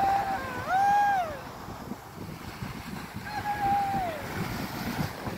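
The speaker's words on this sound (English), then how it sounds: "Pure black sand on the beach, it's so lovely." Waves wash steadily on a black sand fishing beach, a broad surf roar mixed with wind buffeting the microphone, and two thin whistle-like tones rise over it.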